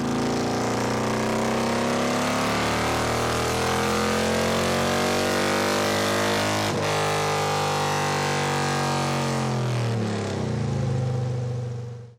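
A 2018 Harley-Davidson Road Glide Special with a stage 4 engine revs hard on a dyno, a loud, sustained roar climbing in pitch, a sharp crack midway, then easing down before cutting off.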